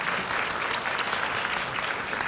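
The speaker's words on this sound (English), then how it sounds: "I think I need for the audience to actually give the 20 million views a clap" A conference crowd at a fireside chat breaks into applause, a thick, even wash of many hands clapping throughout without speech over it.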